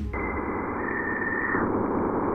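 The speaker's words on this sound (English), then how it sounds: "When the spacecraft entered the magnetosphere of Jupiter, it heard the roar of Jupiter" A recording of Jupiter's magnetosphere roar, made by the Juno spacecraft, gives a faint, steady static hiss with a thin sustained whistle-like tone running through most of its two seconds.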